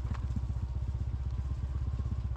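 Motorcycle in first gear engine braking down a muddy trail near a mountain campsite, a steady low chugging engine note with a rapid even pulse, close and continuous, with faint clatter over it.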